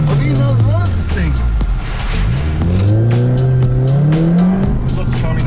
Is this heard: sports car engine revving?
yes